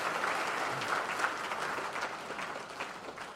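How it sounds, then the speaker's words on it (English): A dinner audience at a fundraising gala claps steadily right after the Star-Spangled Banner is sung, producing a dense, even wash of applause that sounds distant and fairly soft and carries no talk over it. "Let's have a round of applause for that wonderful rendition of the Star-Spangled Banner."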